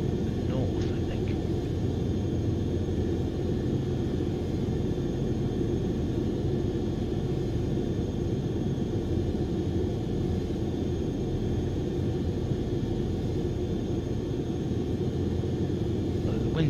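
A fixed-wing aircraft approaches the runway at Bristol Airport in a strong crosswind, heard as a continuous loud engine roar and rumble mixed with wind noise, unchanging for the whole stretch.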